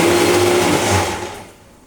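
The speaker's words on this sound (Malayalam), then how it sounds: "ചമ്മന്തിയുടെ ഒന്ന് അരച്ചെടുത്തുകൊണ്ട്" A mixer grinder whirs loudly while grinding coconut chutney, a steady motor drone that winds down and fades near the end.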